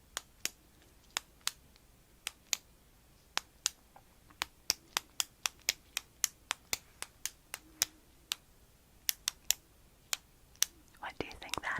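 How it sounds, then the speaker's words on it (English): A writing pen clicks over and over in sharp, dry taps, roughly thirty in a loose, uneven rhythm, close and quiet, with faint whispering near the end. "That is a pen clicking. A writing pen clicking."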